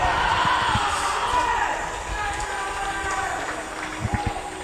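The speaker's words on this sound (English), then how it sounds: "And you're hearing that cheer." A crowd cheers at a decathlon athletics event, a broad sustained roar heard from a distance under a voice, with scattered thuds and footfalls.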